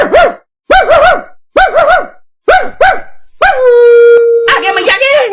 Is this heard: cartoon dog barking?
yes